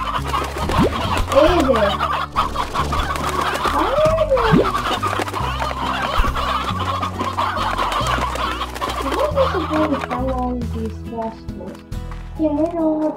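Hens cluck and squawk in the Slime Rancher video game, repeated rising calls over a steady backdrop of game music, with someone talking over them.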